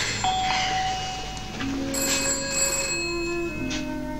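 An old telephone ringing indoors in a 1980s home, a clear bell-like electronic ring with layered tones and background noise, heard without speech.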